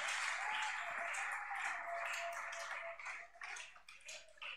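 A church congregation applauds and cheers for the Lord Jesus during a sermon, producing a loud, sustained wash of clapping that fills the space and thins slightly toward the end.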